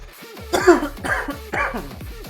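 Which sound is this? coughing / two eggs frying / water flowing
coughing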